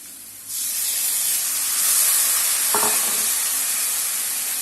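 Grated beetroot sautéing in a hot pan gives a loud, steady hiss close up that starts abruptly and holds, with one brief scrape partway through.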